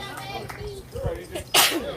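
Amid scattered speech at a 9U youth baseball tournament game, a single sharp, explosive sneeze bursts out nearby, short and loud, followed by quieter talking.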